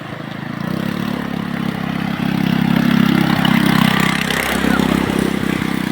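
A vehicle engine nearby, a steady loud low rumble that grows a little stronger as it approaches and stays close, with no talk over it.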